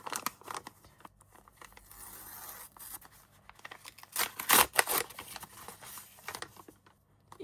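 A small paper packet being opened up close: soft crinkling and rustling paper with a sharper, louder tearing rip partway through, then faint handling noises, with no one talking.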